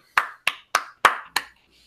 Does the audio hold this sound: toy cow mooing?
no